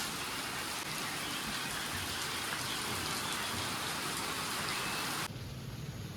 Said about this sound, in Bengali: বৃষ্টি হচ্ছে দেখুন সেই কালকে রাতের থেকে শুরু হয়েছে এখনও শেষ হওয়ার নাম নেই